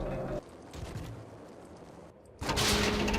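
Gunfire from the video game Max Payne: a burst of loud, dense shots erupts near the end after quieter game sounds, ringing out close and forceful with no talking.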